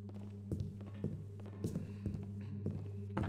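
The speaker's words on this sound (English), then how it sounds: "I'm hearing footsteps from outside," Footsteps outside in a Thief fan mission set around a police station, a few soft irregular thuds and taps over a steady low game hum, quiet and somewhat distant.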